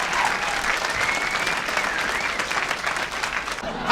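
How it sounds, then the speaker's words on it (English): A studio audience at a political comedy talk show bursts into steady, dense applause that holds at an even level throughout, close and full, with scattered voices mixed in. "By a round of applause."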